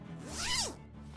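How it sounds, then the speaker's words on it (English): A coat zipper is pulled open in the video game Tiny Bunny: a single rising-and-falling rasp lasting about a second, close and fairly loud over a low steady background hum. "I pulled on the zipper, opened my coat"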